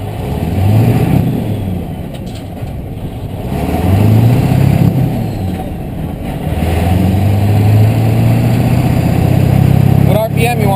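Sled pull truck with a 6.0 diesel engine revving on a dyno in fourth gear, repeatedly swelling and easing back, then holding a steady loud drone, with people talking over it.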